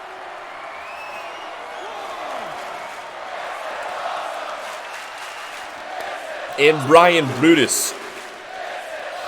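Wrestling event crowd cheering during an MCW match, a broad crowd roar under a commentator's voice, with a louder swell and shouting near the end.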